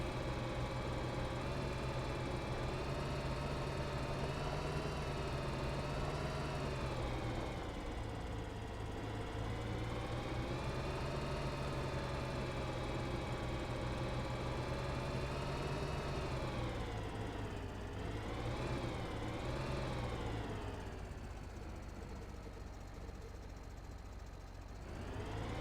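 Steady tractor engine drone from Farming Simulator 2013, a continuous low mechanical hum with harmonic bands that dips and wavers slightly near the end, running alone without talk.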